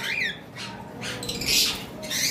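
An albino cockatiel squawks several times in quick succession, sharp harsh calls close by over a low background murmur.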